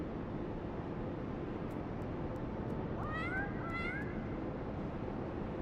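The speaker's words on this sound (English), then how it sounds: "Kitty cat." A cat meows in Final Fantasy XIV, two short rising mews heard clearly over a steady background hum and music in the game.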